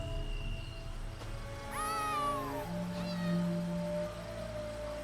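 A cat meows in the video game Elder Scrolls Online during a questing scene in Southern Elsweyr, a clear rising-and-falling meow followed by a shorter one, over a steady game soundscape with a low drone.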